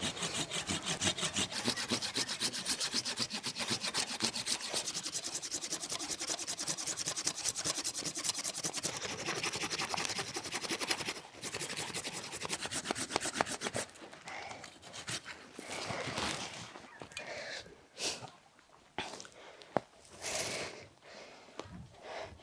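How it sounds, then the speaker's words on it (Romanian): A pruning saw cuts through an apple tree branch during spring pruning, with dense rhythmic back-and-forth rasping strokes filling the first half, then sparser, irregular strokes and snaps as the cut finishes. "O să tai destul de drastic în asta, că asta e situația."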